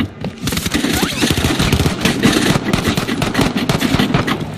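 Rapid automatic gunfire rattles loudly in the video game Warzone, dense bursts of shots and returning fire running almost continuously throughout a duos match.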